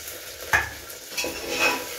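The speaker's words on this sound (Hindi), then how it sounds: "और मटर को भी साथ में फ्राई करूंगी।" Peas frying in a pan for veg biryani: a close sizzle runs under two quick scraping stirs of a spoon against the pan, with no talking.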